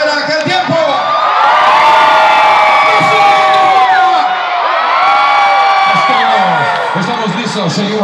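A large crowd at a 90s pop tour concert in Tijuana shouts and cheers loudly in sustained, swelling waves, with whoops and a brief dip midway before the roar rises again.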